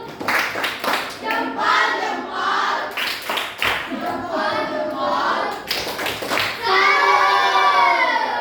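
A classroom of children doing a rhythmic salute clap after a group presentation, steady clapping mixed with many young voices chanting along throughout.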